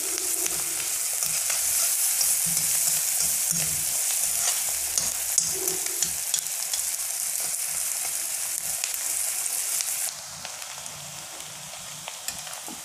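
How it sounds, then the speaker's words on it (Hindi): Chopped onions and green chillies frying in a pan for hotel-style paneer bhurji, a steady close sizzle with light stirring scrapes running throughout. "अब प्याज का कलर चेंज होने तक पकाएंगे।"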